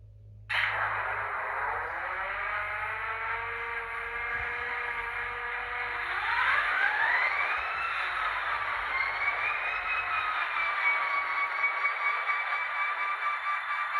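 A ScaleTrains HO Conrail SD40-2 model locomotive runs its sound startup sequence with a steady droning hum, then its pitch rises and settles into a louder, higher idle, with no talking.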